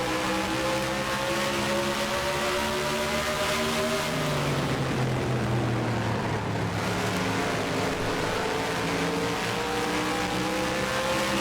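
Race cars roar past on a track in a racing video game, a steady loud engine drone with pitch sweeping down and back up as cars pass and shift, continuous and without talk.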